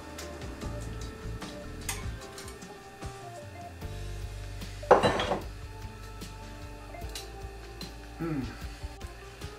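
A lid clatters once onto a dish of turkey pâté topped with frozen mixed vegetables, a single sharp knock amid soft kitchen clinks and a faint background voice.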